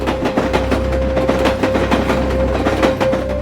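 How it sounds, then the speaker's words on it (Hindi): A train rolls steadily along the railway with loud, rhythmic clickety-clack from the wheels and a constant low rumble, plus a sustained tonal hum throughout. "ये रेल यहाँ से रोज गुजरती है"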